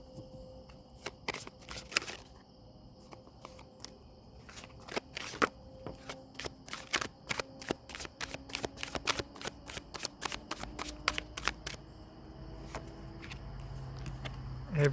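Tarot cards are shuffled and riffled by hand in a quiet room, giving a rapid series of crisp paper flicks and snaps with short pauses between bursts.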